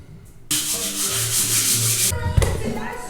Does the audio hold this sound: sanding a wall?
yes